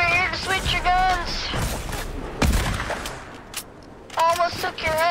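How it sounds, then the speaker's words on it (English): Bursts of gunfire in Apex Legends, aimed at a bot, crack loudly and close among overlapping voices, with one heavy shot in the middle. "Stop shooting this bot over here to switch your guns."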